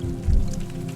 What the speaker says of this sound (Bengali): পুজোর আগে এরকম বৃষ্টি আসাটা অস্বাভাবিক নয়।